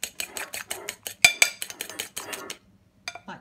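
A spoon scrapes and taps against a dish as oat bran and banana cake mixture is pushed in, a quick run of close clinks and scrapes that stops, then a couple of faint taps.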